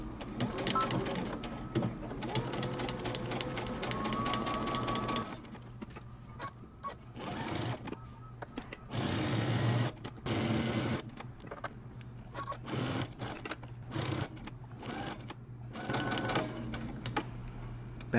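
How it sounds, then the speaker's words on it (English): A sewing machine stitches around the neckband of a men's fitted shirt, running in repeated bursts of rapid whirring separated by short pauses, close by and mostly without talk. "we're going to stitch 3/8 of an inch all the way around the neckband"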